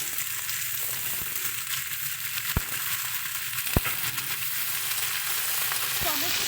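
Mixed vegetables including beans, spring onions and brinjal fry with prawns in a pan, giving a loud, continuous sizzle with crackling and a couple of sharp knocks of a utensil.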